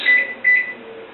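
Microwave oven being set and started, two short, clear electronic beeps from the keypad close by, followed by a quiet low hum.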